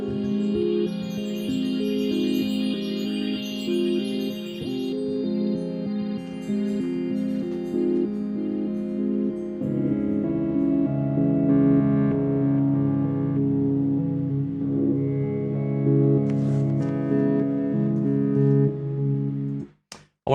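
Synthesizer soundtrack cue from Dark Season Legacy Rising, layered sustained electronic tones with a shimmering high texture early on, then denser low chords midway and bright stabs near the end before cutting off abruptly.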